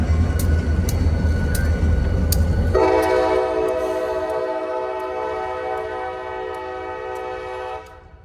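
A train rumbles past Haley Tower in Terre Haute, Indiana, then sounds a long, steady horn blast close by that holds for several seconds before cutting off.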